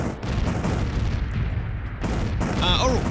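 Continuous rumbling barrage of a space bombardment in the strategy game Distant Worlds Universe, a steady loud wash of booms and impacts, ending with a short electronic warble.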